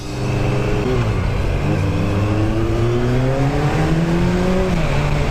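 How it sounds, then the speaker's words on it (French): A single engine of a 2017 Kawasaki Z900 motorcycle revs and climbs steadily in pitch through its exhaust, loud and close, with its rising harmonics sustained throughout and no talking. "Juste une petite accèle pour qu'on entende le bruit du pot d'échappement dans les rues."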